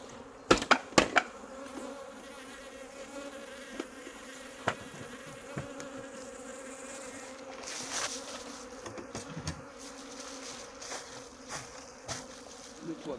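Honey bees buzzing around hives in a sunflower field during transhumance, a dense steady hum close by with a few sharp knocks and clicks from handling hive covers, no talking.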